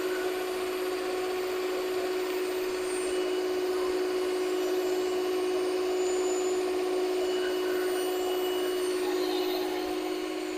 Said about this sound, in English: The mixer's going to mix it better than I can stir it in.